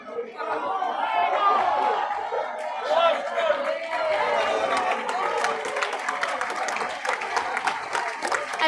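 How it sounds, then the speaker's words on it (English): A stadium crowd at a Jamaican track and field meet cheers, applauds and chatters steadily in support of a female sprinter returning to the blocks. "the crowd is just supporting her and encouraging her"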